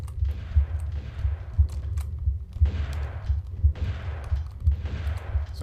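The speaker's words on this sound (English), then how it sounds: "for this guy, I'm going to equip my shotgun." Shotgun blasts ring out in Tomb Raider 2, with loud, evenly spaced booming shots about once a second over a steady low rumble.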